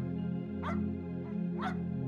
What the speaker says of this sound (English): He scratches and paws and whimpers at the door